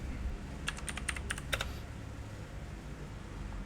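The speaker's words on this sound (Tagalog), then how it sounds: "Ang ingay ng keyboard ko, no?" Fast burst of clacky key presses on a noisy computer keyboard, a quick cluster of sharp clicks close to the microphone before fading to quiet room tone.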